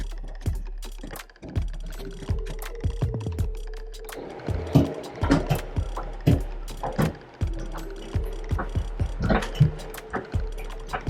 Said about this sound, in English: So you just crank it up right here to drop it up and down to different heights.